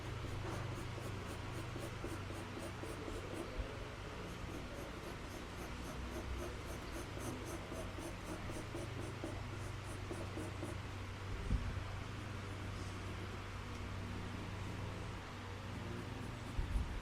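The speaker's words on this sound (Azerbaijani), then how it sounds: "Şimdi biraz daha tünd karandaşla" Pencil shading a drawing of an intersecting four-sided prism with a darker pencil, a steady soft scratchy rubbing that continues evenly and close up throughout, with no talking.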